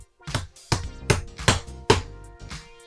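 Plastic clips pushed into a FinPan ProPan custom shower pan wall during installation, five or six sharp snapping knocks in an irregular rhythm, close and distinct with no talk.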